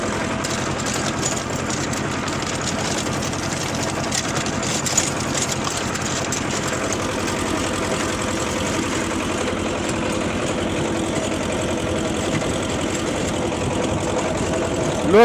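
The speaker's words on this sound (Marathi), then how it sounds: "स्वराज कंपनीचा रोटर आहे." A Swaraj tractor engine runs steadily at about 1400 RPM, driving a PTO rotavator through field soil, giving a constant loud mechanical drone with a low rumble and grinding texture that holds unbroken for the whole stretch.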